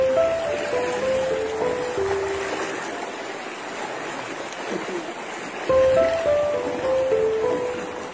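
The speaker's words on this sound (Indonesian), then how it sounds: "Air masih deras menuju ke arah timur." Floodwater rushes through a village in Cirebon during the February 2021 flood, a steady loud roar of flowing water with a faint melody and passing sounds above it.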